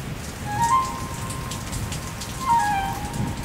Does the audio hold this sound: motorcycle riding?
no